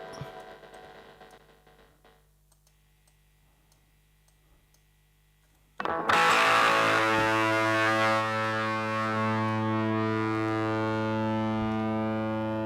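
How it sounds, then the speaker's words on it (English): An electric guitar with a heavy distortion effect bursts in loud and sustained after a few quiet seconds of low hum and faint clicks, ringing chords holding and slowly fading during a live stream. "Guitar sound happening"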